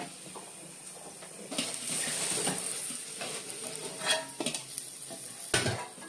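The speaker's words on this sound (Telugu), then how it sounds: "చింతపండు ఫ్రై ఇలా చేసుకుని చల్లారైన తర్వాత మిక్సీ పట్టుకోవాలి." Tamarind frying in a pan for pickle gives a soft steady sizzle, with the scrape and clatter of a spoon stirring it at intervals, close and fairly quiet.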